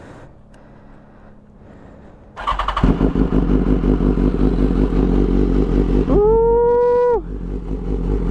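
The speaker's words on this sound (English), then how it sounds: "Let's get a cold start here going." A full-carbon BMW S1000RR cranks over and fires on a cold start, then settles into a loud, close, lumpy idle with a rising whine partway through, and someone exclaims briefly.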